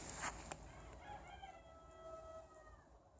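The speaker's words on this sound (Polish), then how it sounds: "I kogut sąsiadów mnie wita" A neighbour's rooster crows once at a distance, faint and drawn out, after a couple of sharp knocks nearby in a quiet, frozen garden.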